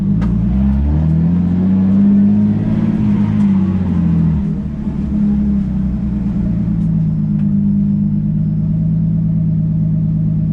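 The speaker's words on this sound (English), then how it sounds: "And this exhaust sounds good." A car engine, a Nissan RB25DET with a straight-pipe exhaust, revs loudly up and then settles into a deep, throaty rumble, close and continuous.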